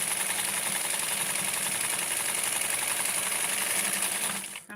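Sewing machine stitching doll clothes, a steady close mechanical whirr with rapid needle chatter running continuously for several seconds before stopping abruptly at the end, alone without talk.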